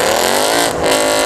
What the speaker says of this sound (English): Come on, Mustang. New exhaust.